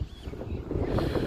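Wind buffets a covered microphone outdoors on an overcast day in Canberra, a rough, rumbling low roar that swells and gusts steadily throughout the short stretch.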